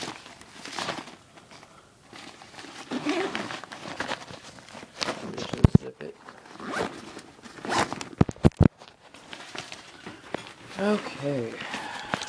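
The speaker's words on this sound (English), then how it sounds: "Let's see if I can find the zipper for this bigger." A zipper on a large survival pack being pulled open, scratchy rasping bursts mixed with rustling and handling of gear, close up, with someone talking in between.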